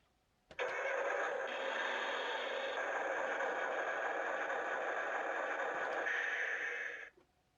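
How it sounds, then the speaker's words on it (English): A toy battle tank plays its engine sound effect, a steady buzzy electronic rumble that switches on abruptly, holds evenly for about six seconds and cuts off sharply. "Green has some engine noises."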